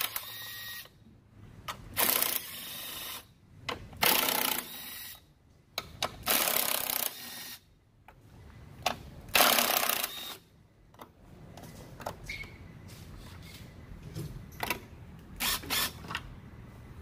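A ratchet fitted with an 8 mm socket turns a bracket screw on the oil filter housing of a Chrysler 300 or Dodge Charger 3.6L. Faint, clicking bursts repeat every couple of seconds, then give way to lighter, scattered ticks.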